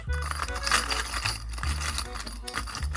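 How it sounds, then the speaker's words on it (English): Small Sanrio character items such as Pompompurin and Hello Kitty figures click and rattle against each other in a quick series of light, close, quiet taps. "I love the little clicking sound"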